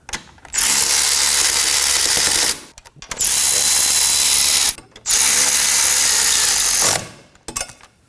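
A power tool snugs the rear hub bolts on a 2016-2020 Kia Sorento in three loud, sustained whirring bursts, each a few seconds long, with short pauses between them.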